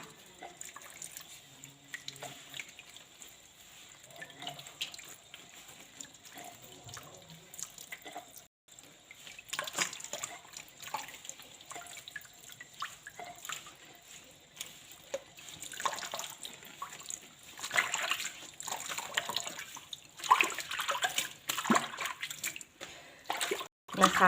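Leaves and tender stems are rinsed by hand under a running tap, front and back, with splashing and trickling water that swells and fades irregularly at close range, fairly quiet, no talk.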